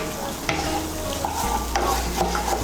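Coconut pieces fry with spice paste in a pan, giving a steady sizzle broken by several scraping stirs, close up and with no speech.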